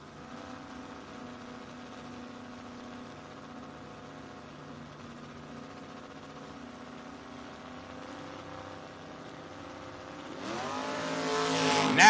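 A Mustang and a Camaro line up for a door-car drag race at a 2025 FRBR Door Wars event, their engines holding a steady loud drone that swells into a harsh, louder burst at the very end.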